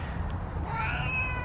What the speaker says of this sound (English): The minute I got out of my car, Hydrox started meowing at me